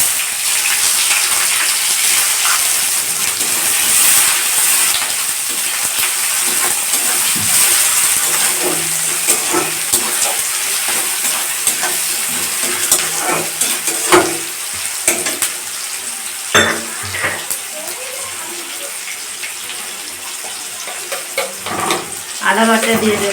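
Bay leaf and chopped onion fry in a pan for a Bengali-style lettuce sabji, giving a steady, close sizzle throughout with scattered clinks and scrapes from stirring.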